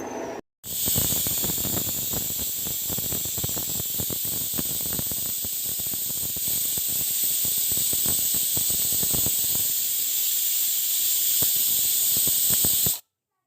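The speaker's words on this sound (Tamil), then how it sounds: "விசில் போட்டுட்டு ஒரு 3 விசில் வந்த பிறகு நம்ம ஆஃப் பண்ணிடலாம்" Steady loud steam hiss from a pressure cooker, with a fast rattling patter underneath, running continuously until it stops abruptly.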